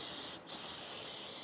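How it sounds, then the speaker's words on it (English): Cleaner sprayed from a can underneath the leaking transmission of an abandoned V8 BMW M3, a steady close hiss that runs throughout with a brief pause near the start. "Let me spray it some so we can see this actual leak."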